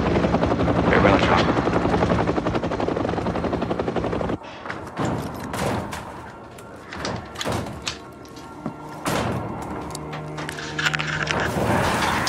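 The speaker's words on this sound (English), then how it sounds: "Everybody get on the chopper." A helicopter roars close and loud in a zombie film scene, its steady rotor beat giving way to chaotic thumps, bangs and bursts of action noise.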